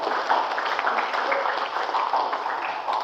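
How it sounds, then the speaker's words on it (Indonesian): Students at a vocational high school orientation assembly clap together, a brief, even patter of many hands heard at moderate distance with some murmuring voices in the crowd. "Tepuk tangan"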